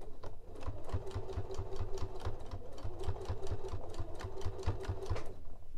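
A sewing machine stitches fabric for a Christmas cathedral window quilt block, running at a steady rapid clatter with a soft motor whir underneath, close and continuous apart from a short slowdown partway through.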